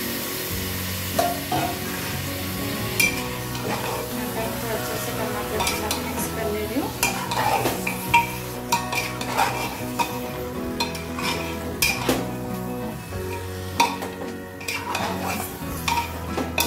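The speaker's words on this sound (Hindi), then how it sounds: "मटन इसमें मिक्स कर लेंगे" Mutton is stirred into tomatoes in a pot for a curry: a spoon scrapes and clinks against the metal in an irregular rhythm over a low, steady sizzle, close and clear with no talking.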